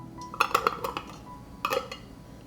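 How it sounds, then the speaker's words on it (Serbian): Metal lids set onto glass jars standing in a cloth-lined pot for homemade yogurt cream cheese: a few bright clinks and clatters in two short bursts, close and fairly loud, with quiet gaps between. "Poklopit ću tegle sa poklopcima."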